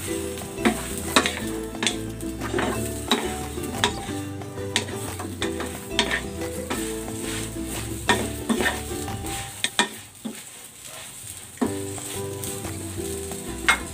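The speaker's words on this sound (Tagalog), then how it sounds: "Ilalagay ko na dito itong talong. Ayan, isasangag ko yan dyan hanggang sa maluto." Eggplant fries in a little oil in a pan, with a steady close sizzle under repeated stirring and scraping. A utensil clicks against the pan now and then.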